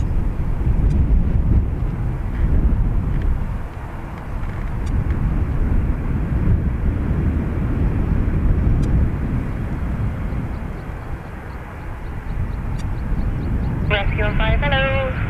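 A Ryanair airliner departs Dublin Airport, a loud, steady broadband engine roar filling the whole stretch close by, with radio chatter and voices faintly mixed in.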